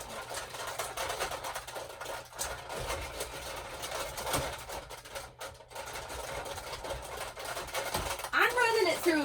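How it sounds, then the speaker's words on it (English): Card stock cranked through a manual embossing and die-cutting machine at a crafting table, a steady grinding mechanical rumble lasting several seconds with a few sharper clicks, close by and fairly loud, with speech partly over it. "it's going to go through my embossing machine really quick"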